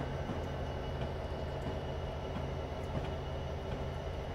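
Steady rumble of a train running on rails in Train Simulator 2015, on the AR Tower to Rose Tower stretch around Horseshoe Curve, a continuous even drone with faint clicks, no voices.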